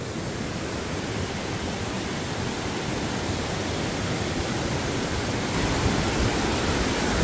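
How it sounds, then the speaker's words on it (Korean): Heavy rain has swollen the stream in Bansagol Valley, and the water rushes with a steady, close, loud roar. The full wash of noise never lets up and swells slightly near the end. "계곡의 물이 장난이 아닙니다"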